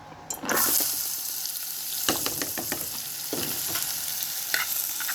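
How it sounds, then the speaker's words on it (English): Garlic, yellow onion and green onion sautéing in olive oil in a small pot: a steady close sizzle that starts abruptly, broken by several scraping stirs, no voices. "I'm gonna let it saute for probably about 30 seconds."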